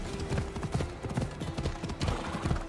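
Horse hooves clip-clop in a steady rhythm in Assassin's Creed Odyssey, close and clear over a low ambient bed, with no voices.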